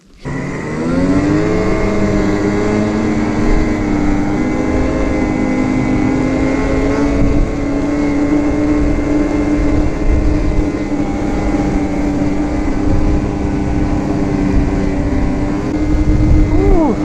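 A 2021 Ski-doo Renegade 850 E-TEC snowmobile drones steadily along a snowy trail near Old Forge, its engine holding a constant loud pitch close to the rider throughout.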